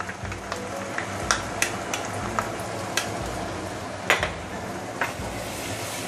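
Teochew fermented soya bean paste, oyster sauce and tomato sauce sauté in oil in a pan for steamed snapper, giving a steady close sizzle with regular scraping stirs and sharp clinks of the utensil against the pan.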